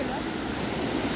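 A mountain waterfall roars as a broad, steady wash of falling water, loud and continuous for the whole moment, with a voice speaking over it.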